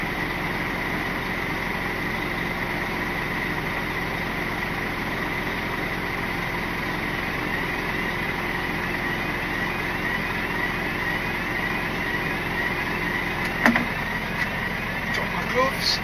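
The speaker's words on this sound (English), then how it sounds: "Leave the engine running, keep the pumping up the air." A van engine idles at a steady, even hum for a long stretch, with a faint high whine above it, a speaking voice over it, and a few brief clicks and knocks near the end.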